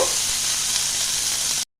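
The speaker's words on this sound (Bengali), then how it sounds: "পেঁয়াজটা আমি একটু ভেজে নেব।" Chopped onion frying in a pan, giving a steady, close sizzle that holds at an even level with no talking and then cuts off abruptly.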